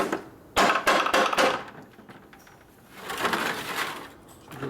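Crankcase halves of a 1961 Harley-Davidson XLCH Ironhead Sportster engine are tapped apart during a rebuild with a rapid cluster of light knocks. A pause follows, then a softer, duller scraping stretch, all close by.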